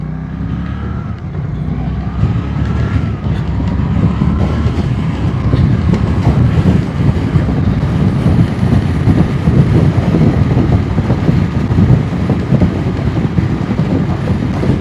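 A motorcycle engine drones steadily while riding and short shifting, loud and close with wind noise, the pitch holding fairly even throughout.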